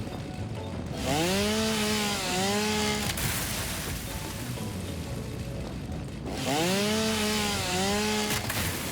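A chainsaw in the video game Satisfactory revs in two loud bursts with rising and falling engine pitch, cutting through wood, over constant background noise with no talk.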